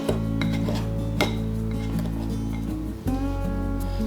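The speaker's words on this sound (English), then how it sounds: "you're using a pastry fork or a pastry knife or a fork" Softened butter worked with a pastry fork in a bowl for pancake bread, giving scraping, clinking strokes of metal against the bowl over a steady background hum.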